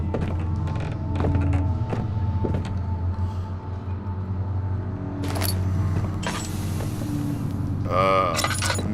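A door in the horror game Amnesia: The Dark Descent creaks open slowly amid a low rumbling ambience, followed by sharper scraping and rattling noises near the end.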